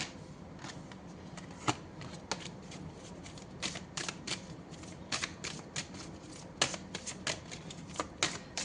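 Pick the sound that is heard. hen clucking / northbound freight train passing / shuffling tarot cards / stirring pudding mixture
shuffling tarot cards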